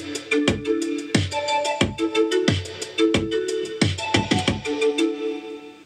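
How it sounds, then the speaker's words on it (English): Korg M1 Air Mallet preset chords ring out in repeating bell-like stabs over a punchy drum beat, a close, loud, steady groove without any talking. "This M1 preset is called Air Mallet."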